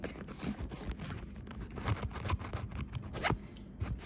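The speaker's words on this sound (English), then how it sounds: "cut these sponges a little bit" Scissors snip through sponges in a quick run of irregular, close crisp cuts and rustling scrapes, with no talk.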